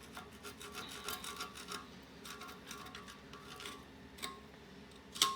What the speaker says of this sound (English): Scrape around the edge a little bit.